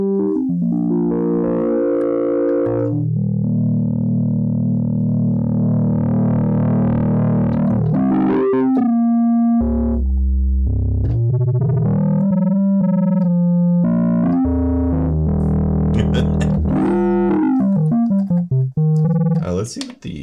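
A Cobalt8 synthesizer plays a sine-wave tone through stereo distortion drive, a loud, sustained, buzzing, shifting-pitch sound.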